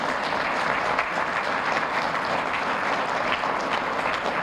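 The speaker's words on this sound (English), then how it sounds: "And I think that deserves a clap." Applause ripples through the audience at a State of the State address, many hands clapping in a steady, moderately distant wash with no speech over it.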